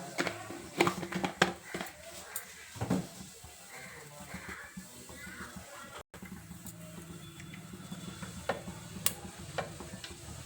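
Cumin and mustard seeds sizzle and crackle in hot oil with irregular pops and light spatter. The sound is steady and close, with no talking.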